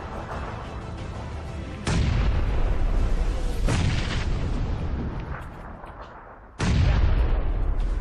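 Thrown grenades explode in three loud, close booms, each followed by a long rumbling decay over steady background noise.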